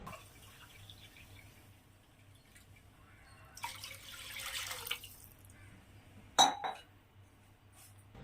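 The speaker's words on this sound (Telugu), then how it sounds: "అదే కళాయిలో 2 పావుసేలు నీళ్ళు పోసుకోవాలి." Water poured from a vessel into a kadai, the frying pan used for vermicelli kesari, gives a soft, rushing splash lasting about a second, followed by a sharp metallic clink against the pan in a quiet kitchen.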